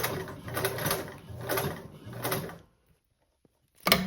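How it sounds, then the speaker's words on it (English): A sewing machine stitches up a slant seam on a blanket backpack in quick bursts, its motor and needle chattering close by, then stops into near silence before starting again at the very end. "And then we'll sew back up the slant."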